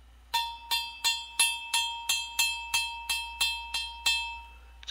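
A ring strikes a Qianlong-era Chinese porcelain vessel fired above 1300 degrees, giving about eleven evenly spaced, bright bell-like clinks. Each one rings on with a clear, sustained tone, close and alone in a quiet room.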